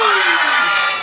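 Live audience at a recorded show in New York City cheering and whooping, a loud sustained crowd roar with a high shout trailing off over about a second.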